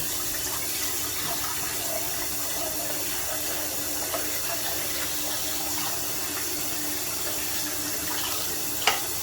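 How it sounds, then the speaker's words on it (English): Running water flows steadily for several seconds, a continuous splashing hiss from a tap rinsing paneer curds in a pan at a sink, ending with a small clunk. "I'm going to give this a rinse with some water."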